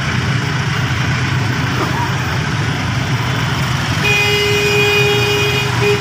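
Congested road traffic in Valenzuela, Philippines: a steady, loud mix of idling and creeping vehicle engines, with a horn tone sounding near the end.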